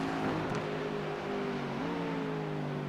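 A GT4 race car at Sebring drones at steady revs, then its pitch drops as the driver lifts off the throttle partway through.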